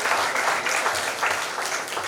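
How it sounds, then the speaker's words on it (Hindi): Sustained applause from an audience at a university science celebration in Ujjain, a dense, steady wash of many hands clapping at once, close and even in loudness throughout, with no speech on top. "तो एक बार जोरदार तालियां हमारी उज्जैन शाखा के लिए।"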